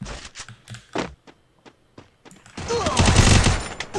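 Bursts of gunfire from behind in a Free Fire match: scattered sharp shots and footsteps, then a dense, loud rapid-fire volley near the end.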